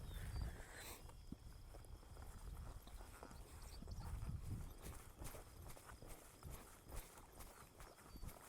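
Hooves of a ridden horse clip-clopping as it turns in a spin at a training session, a quiet run of soft irregular footfalls with faint rustle in the background.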